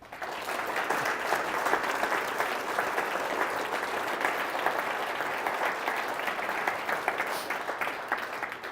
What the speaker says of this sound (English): Let's everybody give them applause.